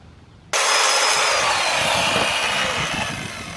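A power tool abruptly starts up and grinds steadily on a rusty horse trailer wheel hub being cleaned, a loud harsh abrasive whir running continuously to the end.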